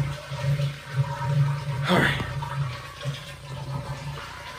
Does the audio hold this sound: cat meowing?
no